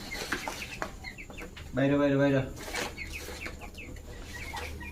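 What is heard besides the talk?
Brahma chicken chick clucking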